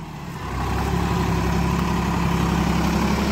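A Kartar tractor engine running steady after a brief quieter start, a close, loud low rumble with a constant idling throb and no voices over it.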